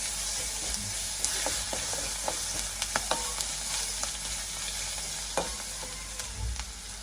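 Cumin seeds and garlic frying in hot oil in a pan, giving a steady hiss with scattered small pops and light utensil clicks throughout.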